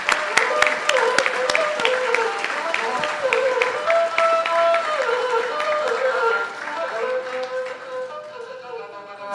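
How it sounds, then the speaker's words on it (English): Audience applause at an award ceremony during an annual dinner, dense clapping that starts strong and slowly thins while a voice speaks over it. "Let's give her a round of applause to Yeshi."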